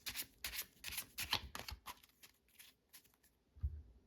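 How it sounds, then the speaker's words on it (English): An overhand shuffle of a deck of playing cards gives a quick run of soft, papery riffling bursts, close and fairly quiet, with brief pauses between strokes and a low thump near the end. "this is called the overhand shuffle"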